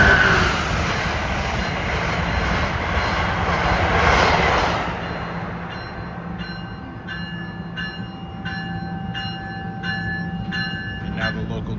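The northbound Crescent passes at a station platform in New Brunswick, a loud rushing roar that fades into rhythmic clicking of wheels over rail joints, with faint voices around.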